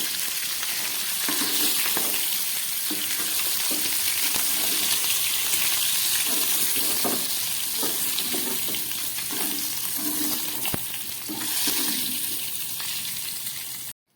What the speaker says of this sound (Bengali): মাছগুলো ভাজা হয়ে গেছে, এবার মাছগুলোকে আমি তুলে ফেলছি আলুর মধ্যে